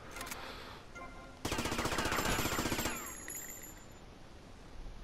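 Automatic gunfire in GTA Vice City bursts in as a dense, loud rattle of rapid shots for about a second and a half, then gives way to quieter game ambience with a faint tonal whine.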